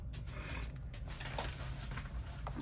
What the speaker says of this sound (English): So we need to open up our zipper.